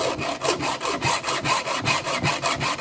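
A hand file is drawn across the teeth of a chainsaw chain during sharpening, producing steady, evenly spaced rasping strokes about three per second. The strokes are close and fairly loud, with no voices.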